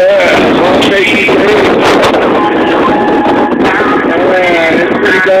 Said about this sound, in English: Yeah, sandstorm real big.